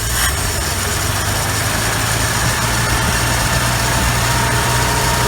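A 1968 Ford F100 pickup, revived after twenty years abandoned in the woods, idles with a steady, rough low rumble and a slight hum. It is close and loud for the whole stretch, with no talking.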